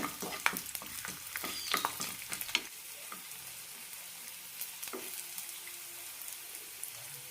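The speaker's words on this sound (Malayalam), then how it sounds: "കൂടെ തന്നെ എട്ടോളം വെളുത്തുള്ളി അല്ലിയും നന്നായി വഴറ്റിയെടുക്കാം" Eight garlic cloves sauté in hot oil in a pan, a crackling sizzle with scattered sharp pops that are busier early on, then a quieter steady fry with occasional spits.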